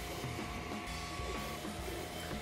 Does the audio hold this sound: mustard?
no